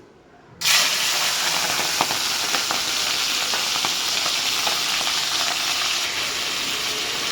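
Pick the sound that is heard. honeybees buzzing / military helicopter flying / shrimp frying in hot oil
shrimp frying in hot oil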